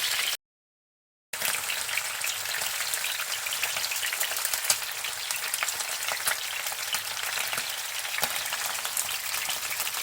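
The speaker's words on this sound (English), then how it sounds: "As you can hear, there are all the cutlets going in there, and they're just being quickly touched, browned off" Salmon cutlets browning in a hot frying pan give a steady, dense sizzle and crackle that cuts out briefly near the start, then carries on evenly and fairly close with no talking.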